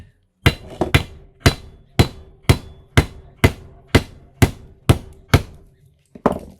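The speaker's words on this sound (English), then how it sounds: "you can take the claw end of your hammer" A claw hammer strikes repeatedly to break paper insulation off the aluminum coils of a large scrapped transformer, about ten sharp, loud, evenly spaced blows close by with no talking.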